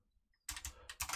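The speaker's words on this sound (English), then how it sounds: "while I'm typing this" Computer keyboard typing during a programming session: several quick clusters of clicking keystrokes begin after a short silence, close and fairly quiet, with no talking.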